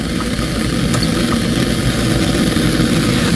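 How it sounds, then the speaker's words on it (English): A torch burns with a loud, steady roaring blue flame as it heats a crucible, a constant broadband rush like a small jet with no break, close and alone. "I call this a roaring blue flame. Can you hear the roar? Like a small jet engine"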